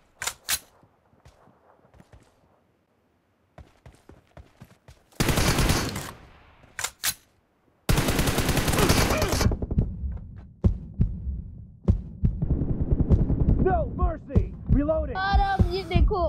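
M416 rifle fire in PUBG Mobile, a team deathmatch: short bursts of rapid shots and two long sustained automatic volleys, loud and close, with quieter clicks between and voices calling out near the end.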